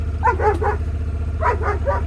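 Two short bursts of high-pitched yapping barks, three quick yips each, over a steady low hum.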